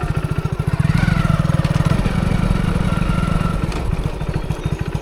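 A motorcycle engine running loud and close, a rapid, even thudding beat that holds steady for several seconds with rattly mechanical clatter on top.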